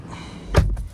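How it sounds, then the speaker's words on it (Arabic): A car door closes on a 2022 Changan Eado Plus sedan: a single dull thud near the middle of a short, quiet interior moment, with no talk. "قفلت الباب كذا"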